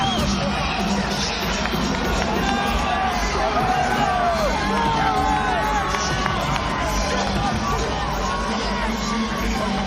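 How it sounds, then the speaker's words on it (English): Dense, steady boxing-arena crowd roars and cheers as heavyweight Lennox Lewis walks to the ring against Klitschko in 2003, a continuous wall of hubbub and shouting with no lulls. "The showbiz crowd giving Lennox Lewis a rousing reception as he comes to the ring."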